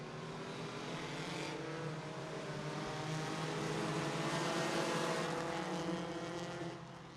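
Race cars charging away at the green flag at Irwindale Speedway, a dense roar of many engines swelling as the field accelerates and then easing slightly, loud and sustained without talk.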